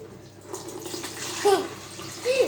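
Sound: pouring liquid while making lemonade

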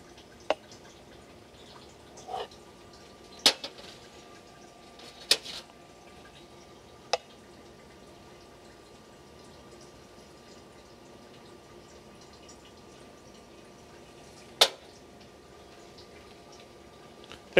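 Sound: espresso shots dripping from an espresso machine

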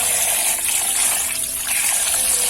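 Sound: tap water running while washing chicken

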